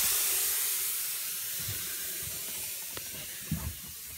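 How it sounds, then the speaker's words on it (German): Gas escapes with a steady broad hiss from the external cooling unit of a 95-litre Vitrifrigo 12V fridge in a camper van, leaking refrigerant under applied pressure; the hiss fades slowly, with a few faint clicks and knocks near the end. "hören wir, wie es hier hinten zischt."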